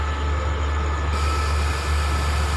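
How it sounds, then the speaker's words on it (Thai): An express train, no. 52 from Chiang Mai to Bangkok, passes close by at Chum Saeng in Thailand with a loud, steady rumble and rush of rail noise that holds for the whole stretch. "มาแล้วครับ ด่วน 52 เชียงใหม่กรุงเทพ"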